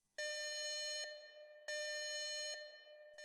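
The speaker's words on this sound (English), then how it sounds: "the piercing sound of a Code 7 alarm cut through the afternoon quiet" A hospital Code 7 alarm sounds as two long, loud, steady electronic tones, each lasting about a second, separated by a short gap, piercing and alone.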